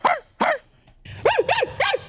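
A man imitates a dog with his voice: two sharp bark-like yelps, a short pause, then three quicker rising-and-falling woofs, all close and fairly loud.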